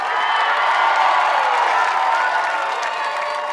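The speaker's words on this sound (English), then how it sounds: "Round of applause for my real life niece," Crowd applause and cheering at a drag show for a performer named Miss Neveah, a dense, loud, sustained wash of clapping and whoops from a large audience.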